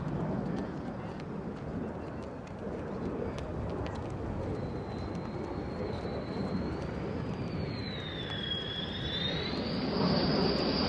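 An F-35 fighter jet flies near RAF Lakenheath as a steady, moderately distant engine roar builds, with a thin rising whine toward the end.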